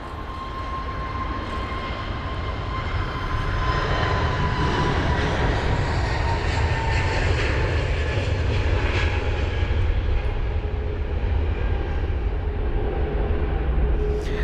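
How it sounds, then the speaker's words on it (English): Airbus A321neo airliner moving on the ground at London Heathrow during a storm, a loud steady jet engine roar with a faint high whine, continuous throughout and without talk. "A321 Neo on the move."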